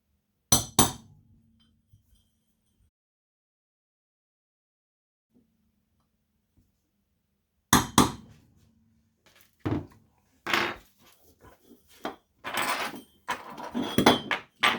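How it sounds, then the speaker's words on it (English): Sharp metallic hammer strikes denting a metal pipe, a pair at first, then a long silence, then a denser run of ringing blows and clanks, close by. "place indents in them"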